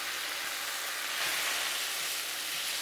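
Stir-fried noodles hit a hot pan with asparagus and broccoli, giving a loud, steady, continuous sizzle and hiss with faint stirring underneath and no talking.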